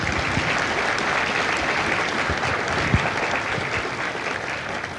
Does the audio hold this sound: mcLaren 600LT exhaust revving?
no